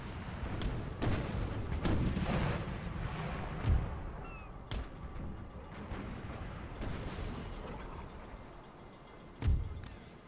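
Cannon fire from a warship aimed at a ship's mast in Napoleon: Total War, scattered heavy booms at irregular intervals over quiet battle noise, a couple of louder blasts standing out.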